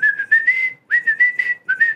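Cartoon-style whistling from a teaser trailer for Mouse, in the manner of Steamboat Mickey: a bright, clear tune of short chirpy notes in three quick phrases, loud and close with no other sound.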